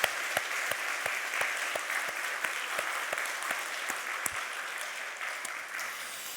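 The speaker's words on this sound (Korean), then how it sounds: "박수를 한번 크게 칠 텐데" A church congregation at Sunday worship claps together loudly in a rhythmic, evenly spaced beat, each clap crisp and strong, repeating steadily for several seconds in a reverberant hall.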